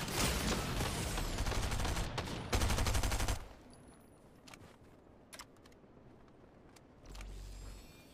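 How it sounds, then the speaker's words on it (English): Bursts of rapid video game gunfire, loud and dense for the first few seconds, then quieter scattered shots and engine-like rumble from a vehicle, with a louder burst returning near the end. "They're shooting."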